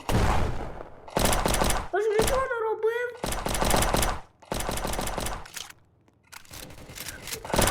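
Loud, rapid bursts of video-game gunfire come in long volleys, with a young voice talking during the short gaps between them.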